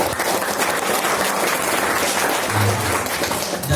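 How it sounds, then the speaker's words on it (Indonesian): A seminar audience at a vocational school gives sustained applause for a guest speaker, a dense wash of many hands clapping at once that holds steady for the whole stretch, with no talking over it. "Tepuk tangan sekali lagi untuk Pak Ono."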